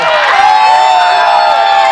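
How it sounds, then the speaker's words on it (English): A protest crowd in Chicago against India's CAA, NPR and NRC cheers loudly, with sustained shouts and whoops from many voices in a brief, close burst. "give yourself a big round of applause for this revolution now"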